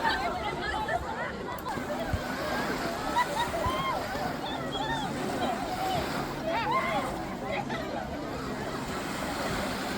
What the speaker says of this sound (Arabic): ناس كتعوم